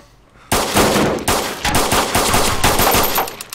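Video game gunfire at a dock, loud rapid automatic bursts and repeated close shots in an uneven, stuttering rhythm, with no talking.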